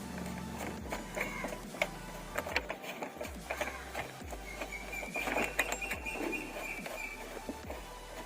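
A screw with a washer is tightened onto a flush-mount indicator on a Suzuki Gixxer SF 250 motorcycle, producing faint, close, irregular ticking and clicking sounds with small metallic scrapes.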